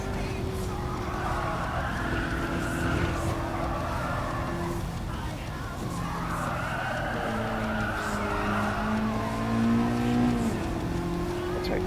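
Race car engine droning and revving steadily in Gran Turismo 7 at night, with tires squealing and skidding during donuts and hard driving, continuous and fairly loud, with a voice talking over it.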